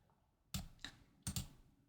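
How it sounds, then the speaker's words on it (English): Typing on a computer keyboard, a few quiet, separate key clicks in two short pairs with pauses between, close by in a quiet room. "I'm going to type the Addams family"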